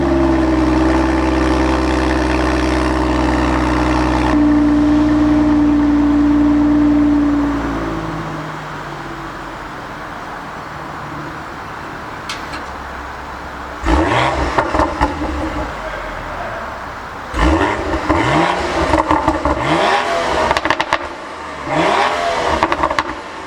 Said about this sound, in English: this OEM sport exhaust, it's not even M performance, it's just OEM from the factory